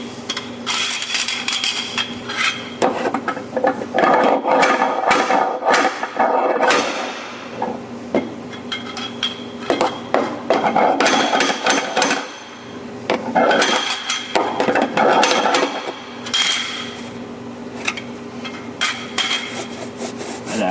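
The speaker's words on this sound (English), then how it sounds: "That's probably not going to work while I'm slide hammering on this thing." Repeated metallic clanks and scraping rubs in irregular bursts, loud and close, with brief pauses between rounds of striking.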